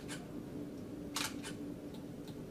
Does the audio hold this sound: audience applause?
no